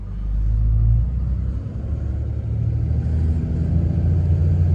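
A manual Dodge dually pickup truck pulling away as the clutch is released, a loud, close, low engine rumble that swells and settles steadily.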